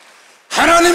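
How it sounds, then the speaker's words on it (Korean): A church congregation bursts into applause during a Sunday worship service, loud, dense clapping that begins abruptly after a near-silent moment and fills the rest of the second. "깨달은 사람만 박수 한번 쳐보세요"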